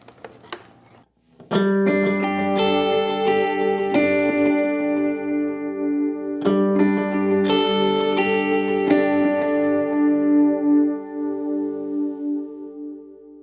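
Electric guitar chords ringing out through stacked delay pedals with no reverb, each strum trailing into repeating echoes that build a lush, sustained wash.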